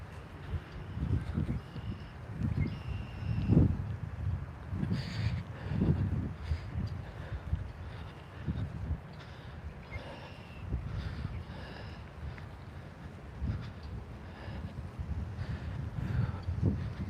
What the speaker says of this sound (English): Man, the wind.